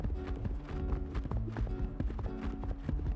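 Horse hooves clip-clopping in the survival video game Project Evo, a steady run of close, even hoofbeats over game ambience and music, with no voice over them.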